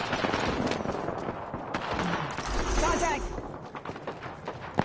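Gunfire from a PS4 online shooter, with bursts of shots spread through the clip. A voice calls out over the shooting, and the firing runs steady under the talk without clear pauses.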